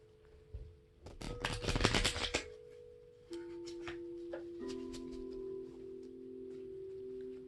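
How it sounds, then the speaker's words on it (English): Tarot card decks are reshuffled by hand, a loud burst of riffling cards followed by softer rustles and taps, with a steady tonal hum underneath. "And I pre-shuffled these decks, but I am reshuffling them."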